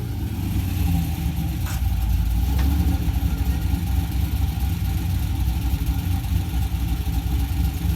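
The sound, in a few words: drift car engine doing an e-brake pull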